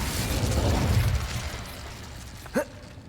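The Incendio fire spell is cast in Hogwarts Legacy: a loud whooshing burst of flame roars up and fades over a couple of seconds, then a short sharp pop rings out near the end.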